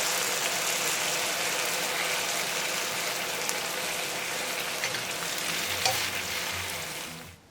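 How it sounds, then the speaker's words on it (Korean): Steady gochujang sauce sizzling and bubbling as it reduces on eggplant in a hot pan, a continuous crackling hiss that stays close and even before it cuts off at the end. "다시 뒤집어서 졸였다."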